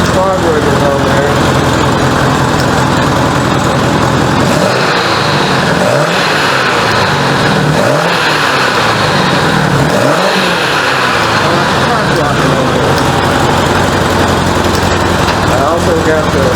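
A 1985 Honda Goldwing GL1200 motorcycle engine, freshly fitted with swapped carburetors, runs steadily and loud throughout, holding a constant drone with a few mild rev swells midway.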